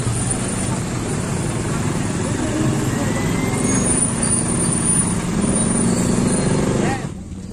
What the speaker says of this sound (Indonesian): Oh, sudah datang rombongan seserahannya pakai bis.